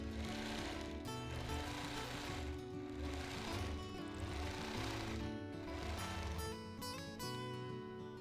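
A quilting machine stitches a Bob Ross style mountain quilt, its motor droning and needle clattering steadily and continuously at close range without a break.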